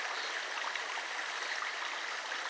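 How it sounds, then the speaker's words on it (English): The La Mina river in the El Yunque rainforest, Puerto Rico, flows steadily with an even, hissing rush of water that stays constant throughout, with no voices. "This river is called La Mina."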